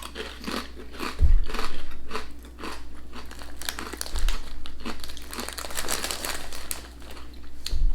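Close, loud crunching and crinkling of chorizo-flavoured British crisps being bitten and chewed, with irregular crisp bursts and rustling and a few heavier bites, with no talking.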